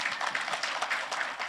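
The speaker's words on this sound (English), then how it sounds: "Clap for yourselves." Conference attendees at an HIV-focused gathering clap for themselves. The applause is a lively, fairly close patter of many hands that pulses unevenly through the whole moment, with no speech on top.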